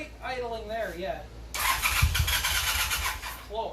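A Honda CM450 motorcycle that sat unused for ten years cranks and catches, then runs loud and rough as it settles toward idle, after a person talks nearby.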